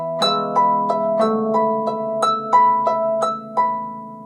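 Piano passage from bars 100-101 with the right hand played an octave higher, a steady run of bright repeated notes over held lower tones, close and clear with no voices.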